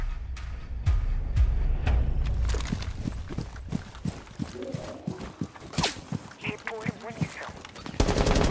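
A video game plays rapid bursts of automatic gunfire at mid distance, joined by scattered single shots and footstep-like thumps, with a low rumble at the start. The shots come in uneven clusters, and no one speaks.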